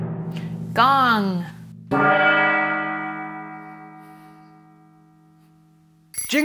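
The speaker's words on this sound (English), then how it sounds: "Gong." A gong from a children's percussion set rings out in one long, slowly fading metallic wash. A brief sliding, warbling tone and a voice come just before it, and a new sound starts at the end.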